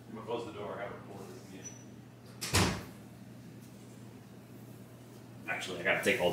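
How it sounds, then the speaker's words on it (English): A door shuts with one sharp, fairly loud thump midway through a workshop battery build, while a voice talks before and after. "I'm gonna close the door."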